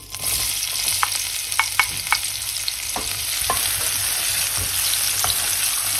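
Crispy pancetta and onions frying in a pan, a loud continuous hiss with scattered ticks and pops and a few spoon taps throughout, no voices.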